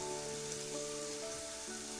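Goat brain (maghaz) fries in a pan with a steady, even crackling sizzle like light rain, close and continuous, with no voices.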